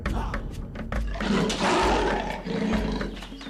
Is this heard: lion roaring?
yes